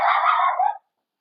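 A small dog outside lets out a single loud, drawn-out bark at a car. It lasts under a second and then cuts to silence.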